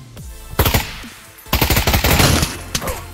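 AK rifle in the Pavlov VR shooter fires in two rapid automatic bursts, loud and close, the second longer and trailing into a few single shots.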